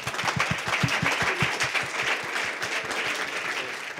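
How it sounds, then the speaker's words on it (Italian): An audience in a music institute workshop breaks into loud, sustained applause, with dense rhythmic clapping that holds steady throughout. "Applausone, dai."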